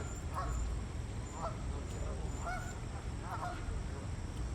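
Geese honk in a run of four or five spaced calls over a low, steady background rumble, moderately near and clear; faint human voices sit underneath.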